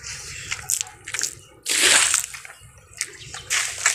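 Water is drawn from a household storage tank and poured out for washing clothes, heard as close sloshing and splashing in uneven bursts, with one loud gush in the middle.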